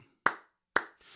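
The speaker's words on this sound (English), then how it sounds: "slow motherfucking clap." Two sharp, close hand claps about half a second apart in a slow sarcastic rhythm, followed by a brief soft rustle.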